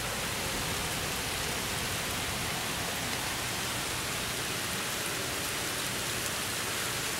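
Heavy, steady rain from Hurricane Sandy pours down as a dense, continuous hiss and roar that stays loud and unbroken throughout, with no voices.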